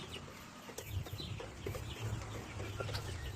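Chickens on a poultry farm cluck softly at night, with quiet, intermittent calls over a constant low hum of background noise.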